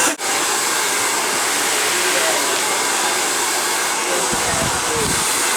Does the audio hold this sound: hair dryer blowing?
yes